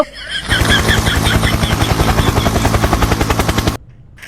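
A video game helicopter's rotor chops rhythmically and loudly for a few seconds, a fast steady thumping with whining engine tones, then cuts off abruptly.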